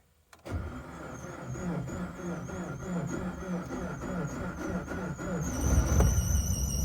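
A supercharged Suzuki Swift ZC31S cranks briefly and catches, then idles roughly with an uneven, pulsing note that grows louder and harsher toward the end; no one speaks.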